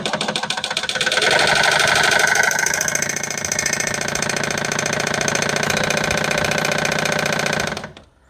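Industrial upholstery sewing machine running flat out with no fabric, a dense fast mechanical chatter and hum that stays steady and loud for several seconds, then cuts off abruptly near the end.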